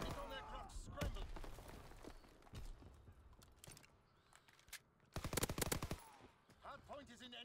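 Video game gunfire in a capture-the-hard-point match, with sharp single shots and a dense rapid automatic burst near the end, fairly faint amid game voice lines.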